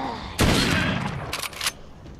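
Gunfire in The Walking Dead: Saints & Sinners VR game: a loud close shot opens with a long decaying boom, followed by a quick burst of several sharper shots, then fading quiet.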